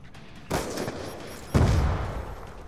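Two heavy bursts of gunfire from a shooter video game, including an MTAR assault rifle, each a loud sharp blast trailing into a rumbling, crackling tail, about a second apart.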